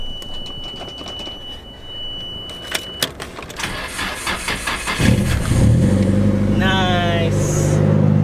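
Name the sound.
drift car engine starting up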